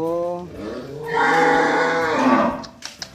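Cattle at a livestock farm giving one long, loud, close moo that rises and holds for about two seconds. Brief voices and farmyard clatter can be heard around it.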